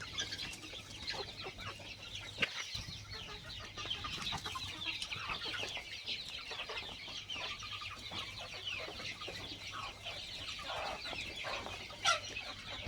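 Several free-range country chickens cluck and murmur nearby in a busy, overlapping chorus, with occasional louder squawks and no talking.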